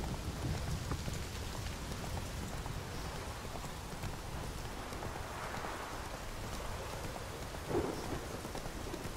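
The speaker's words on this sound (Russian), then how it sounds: "Правда, дождик начинается" Steady rain pours in The Witcher 3 video game, with rumbling thunder rolling beneath the dense hiss and a brief louder crack near the end; no voices.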